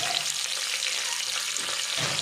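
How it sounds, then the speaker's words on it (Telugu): Chopped onions and green chillies fry in hot oil for a sambar, making a steady, close sizzle that hisses continuously with no talking. "ఇలా కొద్దిసేపు వేగాలి"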